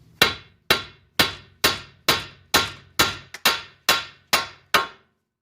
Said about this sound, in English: go ahead and hit the knuckle right here with a hammer